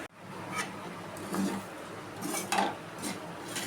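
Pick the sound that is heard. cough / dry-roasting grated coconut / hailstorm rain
dry-roasting grated coconut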